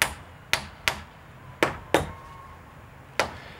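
A hammer tacks a wooden header board into place on a new front porch frame: six sharp, ringing strikes at uneven intervals, close and loud, with quiet gaps between the blows.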